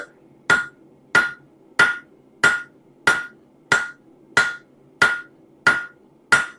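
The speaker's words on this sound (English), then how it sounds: "I'm actually hammering in the center and turning this guy" A hammer strikes the center of a metal gardener's trowel blank in steady, evenly spaced blows, ten loud ringing impacts close by with no talking.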